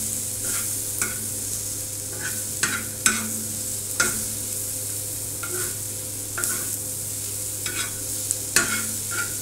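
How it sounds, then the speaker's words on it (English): Scrambled egg cooking on a tawa, dhaba style, with a continuous sizzle and repeated sharp spatula scrapes and taps at irregular intervals, close and clear with no voices. "after we finish this scrambled egg on this tawa"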